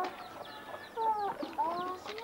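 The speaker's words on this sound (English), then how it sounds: "baby chicken" Young chickens cluck and peep close by in a continuous chatter of overlapping calls, with a few louder squawks standing out.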